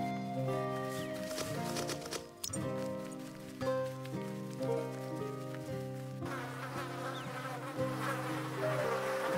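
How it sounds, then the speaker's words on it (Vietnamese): Bees buzz in the goblin video game Goblin Stone, a steady insect drone layered with droning game music tones, continuous throughout with a brief dip partway. "Nghe tiếng mấy con ong ta."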